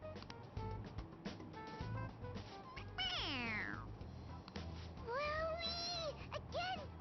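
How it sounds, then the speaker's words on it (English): A toy cat meows when its head is pressed in the video game Persona 5 Royal, giving two drawn-out, falling meows over background music, loud and clear with a few shorter mews after. "It meows when you press on its head."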